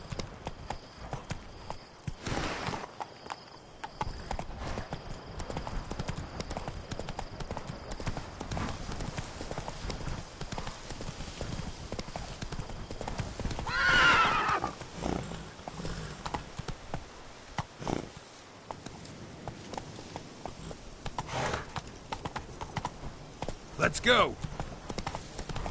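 Roach, the horse in The Witcher 3, gallops with steady hoof clip-clops throughout. A neigh comes partway through, and someone speaks briefly over the hoofbeats.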